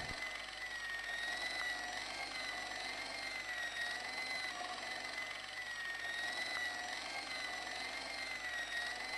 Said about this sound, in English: It was an industrial polishing machine with an odd-looking guy in tow.